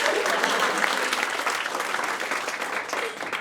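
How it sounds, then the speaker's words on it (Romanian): Audience applause at a live Romanian-language stand-up comedy show, a dense steady wash of clapping from many hands that holds evenly throughout and stays loud with no voices over it. "bravo, aplauze pentru ea"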